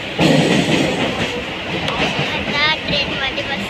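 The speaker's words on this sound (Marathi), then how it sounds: "ट्रेन मध्ये बसलेला" A passenger train moving on rails on a local trip to Titwala, a loud continuous rumble and rattle from inside the carriage, with a brief wheel squeal near the end.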